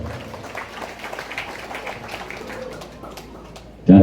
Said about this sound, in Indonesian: tepuk tangan buat Banser